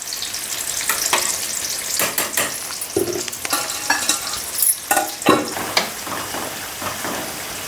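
Ginger and vegetables sizzle and fry steadily in a pan for a soy and eggplant biryani, with repeated spatula stirs and scrapes breaking through the hiss at close range.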